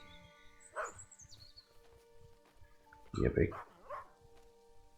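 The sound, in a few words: dog barking in Maid of Sker video game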